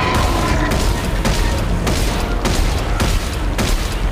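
Weapon fire in the Dead Space 3 video game comes as a series of dense, booming shots at regular intervals over a constant mechanical background.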